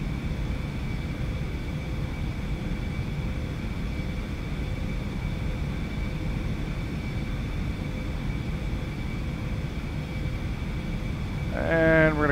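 Boeing 737-300 engines in X-Plane 11 give a steady, even jet drone with a faint high whine. It holds constant the whole time, and a voice speaks briefly near the end.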